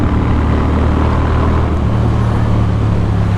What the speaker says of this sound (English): it's awesome getting out on Lord Vader, my Moto Guzzi V7